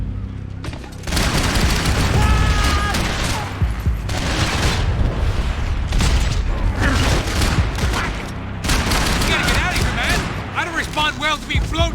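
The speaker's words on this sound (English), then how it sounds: "Luckily he's not a good shot with that grenade launcher." Grenade launcher explosions in Max Payne 3 boom over dense, continuous gunfire, with loud, crowded bursts broken by brief gaps.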